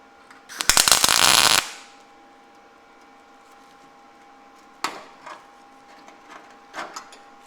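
A brief, loud, crackling arc burst of about one second as a tack weld is laid on a metal handle, followed by a few faint metallic clanks and taps.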